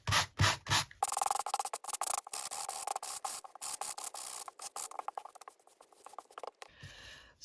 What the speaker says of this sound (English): So I'm going to carry on with my sanding.